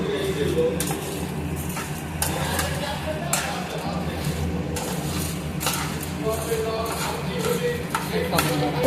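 Roasted gram dal being stirred in a pan at home, giving scattered scraping and clinking of a utensil against metal, with a person talking over it.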